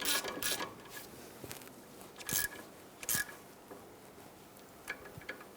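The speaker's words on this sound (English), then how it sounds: "Now we're just going to snug this down with our hand ratchet." A hand ratchet clicks in short bursts while snugging down an exhaust manifold flange nut on a 1999-2004 Jeep Grand Cherokee, with sparse metallic ticks and pauses, close and fairly quiet.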